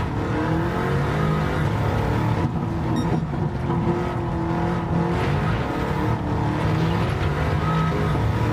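Bugatti Chiron in Gran Turismo 7 gameplay, a loud, continuous engine drone with shifting harmonic pitch as it accelerates hard, sustained without pause over several seconds.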